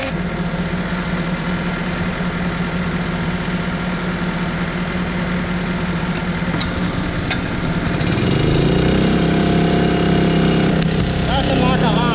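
A Honda engine powers a concrete pump on a concrete pumping job, running steadily with a loud drone that rises in pitch and strength as it revs up partway through.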